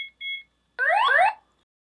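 An X-Sense wireless home security base station sounds a loud electronic alarm tone: two short beeps, then a brief rising, warbling siren burst, close and clear with no talking.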